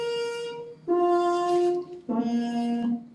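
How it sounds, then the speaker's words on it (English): Three sustained trumpet notes with a harmon mute, each a thin, buzzy, nasal tone stepping lower in pitch, played alone. "This happens to be a harmon mute, and this one sounds like this."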